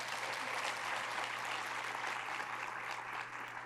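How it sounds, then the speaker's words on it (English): Audience applause at a school district education awards ceremony, a sustained wash of many hands clapping in a large hall, even and moderately distant, with a faint low hum underneath. "One more round of applause for Angie"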